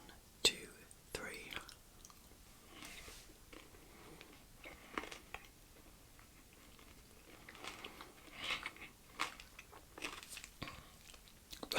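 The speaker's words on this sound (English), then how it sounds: "The salted caramel is quite brittle and it's crunching with the melted chocolate." Ritter Sport salted caramel chocolate, brittle caramel pieces in melted chocolate, crunched and chewed close to the mic in scattered soft bites and mouth sounds, faint and intimate with occasional whispery breaths, amid light plastic wrapper handling.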